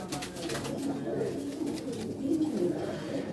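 Breeder pigeons with thick, silky feathering coo softly in a breeding setup, low murmuring calls running steadily through the whole stretch, close by, with a faint hint of a voice at the start.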